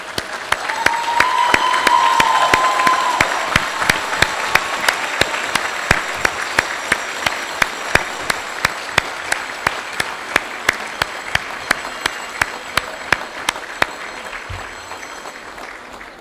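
A graduation ceremony audience at Chestnut Hill College gives a long round of applause, a broad wash of many hands clapping in a large hall, loud at first and gradually easing over about sixteen seconds.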